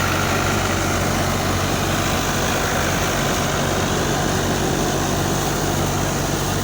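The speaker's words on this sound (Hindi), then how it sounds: "पीछे थ्रेशर है, आगे ट्रैक्टर है। ये बड़े बड़े व्हील लगे हुए हैं और थ्रेशर चल रही है, ये देखिए।" A tractor-driven thresher with big wheels runs loudly while threshing mung beans in the field, a dense steady engine drone and mechanical rumble throughout with no talk.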